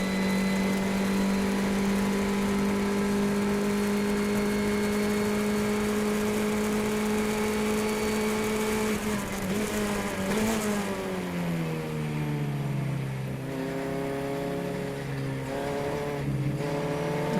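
A race car's engine drones loudly at a steady high pitch on a road racing circuit during a shakedown run, then the note drops and wavers through shifts as another car pulls away ahead.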